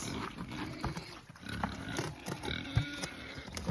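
A homestead pig with its head stuck in a bucket snorts and grunts close up, with hollow knocks and scraping against the bucket in irregular bursts.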